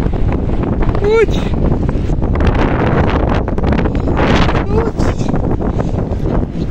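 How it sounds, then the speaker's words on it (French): Strong gusty wind buffets the microphone in a partly flooded parking lot, a loud continuous roar throughout, with a brief voice exclamation partway through. "Le vent est super fort, il nous pousse de partout."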